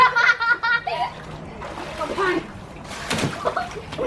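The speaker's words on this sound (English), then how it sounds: "We're gonna pour it on Russell" Water is poured and splashes around swimmers, with bursts of sloshing under lively overlapping voices of children and adults talking and laughing nearby.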